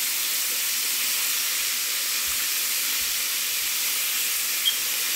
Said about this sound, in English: Once this gets hot, we're going to stir fry that